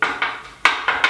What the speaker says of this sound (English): So I'm going to spoon it into my